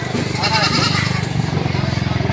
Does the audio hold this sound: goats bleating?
yes